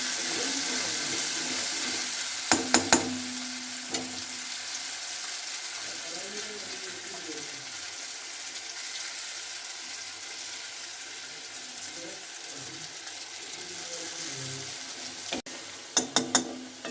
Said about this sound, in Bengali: তো এটা এখন এই তেলে দিয়ে দেওয়া হচ্ছে। এই মশলাটা ভালো করে কষিয়ে নেওয়া হবে।